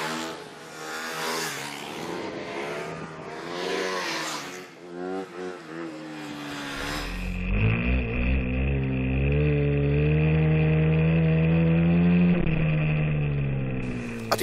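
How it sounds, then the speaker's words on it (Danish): A BMW G 450 X single-cylinder supermotard motorcycle engine revs hard, rising and falling through sharp throttle blips before settling into a loud, sustained high-revving drone close to the microphone, with no speech. "en stor encylinder motor, som bare trækker fra kulkælderen og løfter forhjulet lige så let som ingenting"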